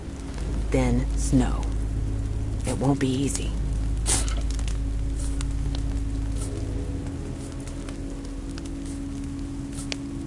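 Steady rain patters and hisses in The Walking Dead Season 2 game, a constant wash beneath a speaking voice.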